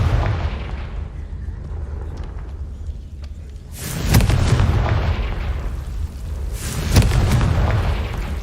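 Explosive spell blasts in a video game, two heavy booming bursts with rumbling tails rising over a steady low background, the second following a few seconds after the first.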